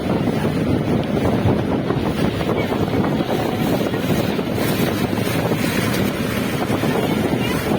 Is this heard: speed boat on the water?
yes